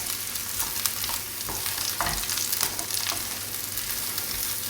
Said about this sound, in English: Stick a bit more olive oil in. And give it all a stir around.